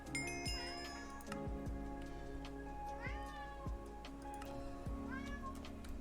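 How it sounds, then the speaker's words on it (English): A cat meows several times at close range, short rising-and-falling cries spaced a second or two apart over a low steady background hum, in a Modded Minecraft game session. "Hello, kitty."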